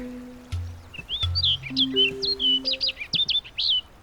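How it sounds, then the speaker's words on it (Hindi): A small yellow bird chirps in a courtyard, a quick run of bright, high tweets and trills in close succession, while low sustained musical tones play underneath. "आंगन में वो पीला पक्षी खुशी से चहक रहा है।"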